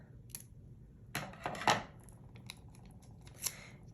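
Close scissors snip through a piece of floral paper in a few quick, crisp cuts, with light paper rustling between them in a quiet room.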